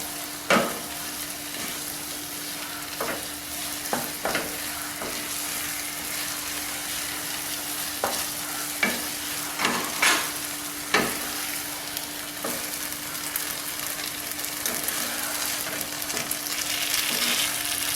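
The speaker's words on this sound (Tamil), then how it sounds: "அது மாவை நல்லா திருப்பி விடணும், எல்லா பக்கம் வேகிற மாதிரி." Foxtail millet dhokla batter is turned and stirred in a hot pan, giving a steady low sizzle broken by irregular scraping clicks and knocks of the utensil against the pan.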